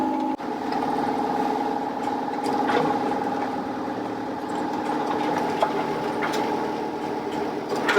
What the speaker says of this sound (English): we can only run the engine at low revs to charge the batteries